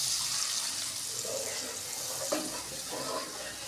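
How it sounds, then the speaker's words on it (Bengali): A little broth is poured into a pan of frying ground spices such as turmeric, coriander and chili powder, giving a steady close wash of liquid and sizzle with a faint clink. "তো আমি এখন দিয়ে দিব সামান্য ঝোল।"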